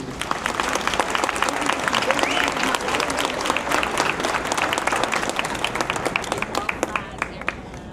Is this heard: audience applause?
yes